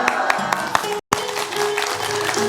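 A studio audience at a televised Islamic sermon show claps in a dense, loud, continuous burst of applause, cut off by a brief silent gap before resuming.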